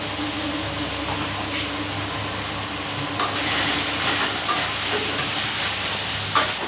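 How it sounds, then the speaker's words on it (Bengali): Ginger-cumin spice paste frying in a pan for a cauliflower and potato curry, a constant loud sizzle and hiss with occasional spatula scrapes and taps, no voices. "মশলাটা ভালো করে কষানো হয়ে গেল"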